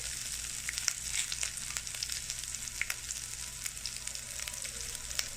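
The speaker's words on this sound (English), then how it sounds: "Just stir it a little bit, just so the flavor comes out of the ginger." Ginger and red chili frying in hot oil in a pan while being stirred, a steady close crackling sizzle with scattered sharp pops throughout, no voices.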